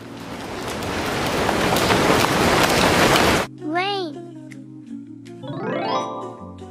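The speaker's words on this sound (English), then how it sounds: "Rain." Steady, dense rain falling for about three and a half seconds, close and fairly loud, in a toddler first-words learning setting; it cuts off abruptly and a bright, sing-song voice with chiming tones follows.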